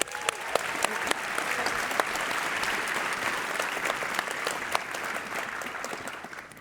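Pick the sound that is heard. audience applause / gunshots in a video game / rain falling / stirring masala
audience applause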